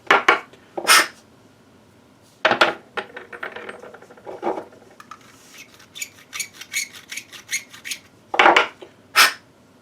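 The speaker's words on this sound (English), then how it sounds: "run through these, chamfer them really quick" Brass 7.62x54R rifle case mouths are chamfered by hand with a tool, giving short scraping, rasping twists interspersed with metallic clinks as cases are handled and dropped nearby.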